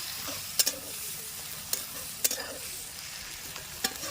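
Chicken frying in a pan with a paste of ground green and dried chillies, a steady soft sizzle broken by several sharp scrapes of a spatula stirring, close and alone with no voices.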